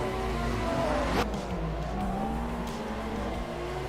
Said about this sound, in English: Cars are loud too, listen to that.